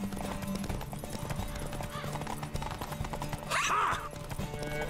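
A horse gallops in The Witcher 3 during a race against a merchant, with steady rhythmic hoofbeats under game music and ambience and a brief whinny-like burst near the end.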